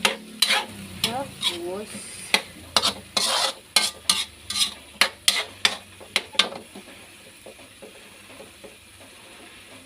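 A utensil stirs bottle gourd and Argentina corned beef sautéing in a pan, giving a quick run of sharp scraping clacks over a faint sizzle before the strokes slow and fade; one short word is spoken at the start.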